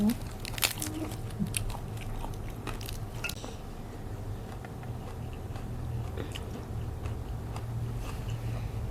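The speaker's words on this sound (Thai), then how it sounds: "กินแตง" Crisp, close biting and wet chewing of raw cucumber, repeated crunches and squishy mastication at a steady pace under a faint background hum, with no talk over it.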